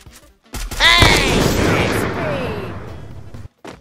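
A sniper rifle shot in the video game Free Fire lands as one loud, close boom with a long rumbling tail, and a voice is briefly heard alongside it.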